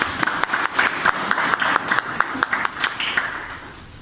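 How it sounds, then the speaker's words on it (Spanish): Audience applause at a tourism conference, a room of clapping hands with distinct individual claps running steadily throughout, moderately loud and close, with no talk over it. "Les recibimos con aplausos."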